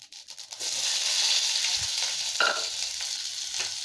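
Sliced onions hit hot oil in a pan for onion sambar, a loud, continuous close-up sizzle with a few faint stirring knocks underneath.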